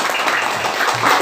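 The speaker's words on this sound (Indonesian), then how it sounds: "Tepuk tangan untuk kelompok peminat olahraga." Brief burst of applause from a group of participants, dense clapping heard close and loud.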